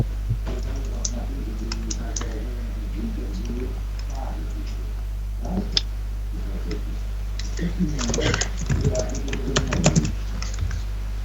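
Rapid keyboard typing clatters in bursts beside a steady low hum, with quiet voices now and then.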